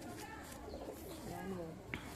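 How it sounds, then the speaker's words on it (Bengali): Pedigree pigeons coo softly and repeatedly amid faint background chatter, low murmuring calls that rise and fall near the birds over a steady ambient hum. "জাতের কবুতর রয়েছে দাদার কাছে"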